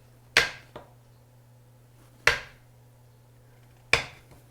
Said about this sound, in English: I'm slicing them up in 1/2 inch chunks as I go along through the butter